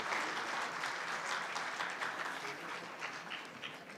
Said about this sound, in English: a huge round of applause again for Professor Dr. Hussain Mohyuddin Qadri.